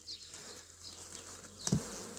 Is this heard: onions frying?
no